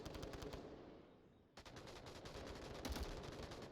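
A grenade blast and bursts of rapid gunfire ring out in the VR shooter Onward during a competitive match, with dense, continuous firing, a brief lull, then more shots.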